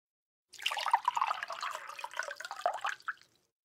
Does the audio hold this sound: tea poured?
yes